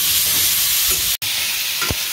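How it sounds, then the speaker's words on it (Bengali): Pointed gourd (potol) pieces fry in a pan, giving a steady, close hiss with a couple of brief stirring scrapes and a momentary dropout midway. "এই যে এরকম টাইপের একটু ভাজা ভাজা হবে, হালকা হালকা ভাজা ভাজা হলেই হবে"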